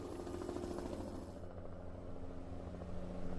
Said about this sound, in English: Is that a helicopter flying through the smoke?